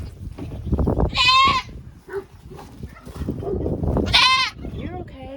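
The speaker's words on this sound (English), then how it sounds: "we will be checking out the baby goats here in a little bit" Baby goats on a farm bleat twice, loud wavering cries close by, with people talking and some background rustle between calls.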